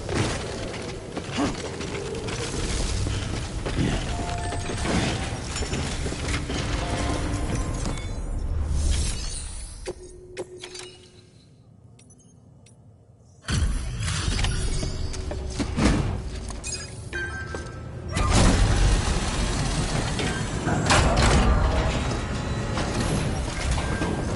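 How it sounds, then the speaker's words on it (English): Suit decontamination machinery in Death Stranding clanks and hisses in dense mechanical bursts with sharp metallic hits, dropping to near silence midway before loud whirring and rattling resume and swell toward the end. "Decontaminating suit."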